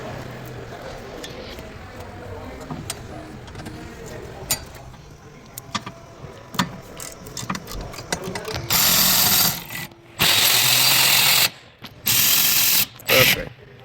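A ratchet works the top bolt of a rear wheel bearing on a Chevy Volt, first as scattered clicks, then in several loud, fast bursts of ratcheting near the end.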